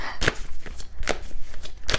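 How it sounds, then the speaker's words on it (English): A tarot card deck is shuffled by hand close up, with crisp riffling snaps in three distinct bursts and softer card rustling between them, and no talk. "My shuffling is kind of interesting"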